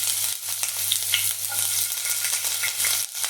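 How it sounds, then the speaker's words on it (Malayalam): Chopped ginger and garlic fry in hot coconut oil for an egg omelette curry, a dense close crackling sizzle over a low steady hum, without talk. "അപ്പോൾ നമ്മുടെ വെളിച്ചെണ്ണയൊക്കെ ചൂടായിട്ടുണ്ട്. അതിലേക്ക് നമുക്ക് അരിഞ്ഞ് വെച്ച ഇഞ്ചിയും വെളുത്തുള്ളിയും ഇട്ട് കൊടുക്കാം കേട്ടോ."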